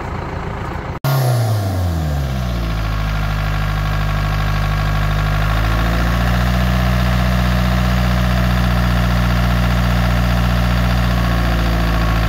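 A hedge trimmer that has caught barbed wire while cutting the top of a hedge starts up abruptly, then runs at a loud, steady, low droning idle nearby, with its pitch shifting slightly and no talk over it.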